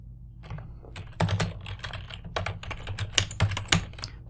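Rapid typing on a computer keyboard, close and crisp, with irregular bursts of key clicks and a few heavier keystrokes, alone without talk.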